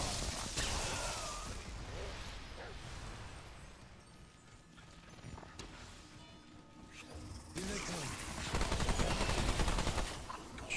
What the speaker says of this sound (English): Shooting from up here.